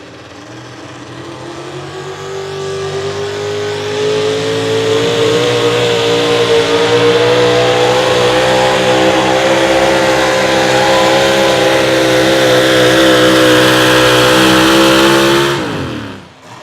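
Modified 4x4 Ford pulling truck, the Aftershock Ford, roars at sustained high revs throughout a straight pass down an outdoor pulling track, engine pitch climbing steadily before cutting off at the end.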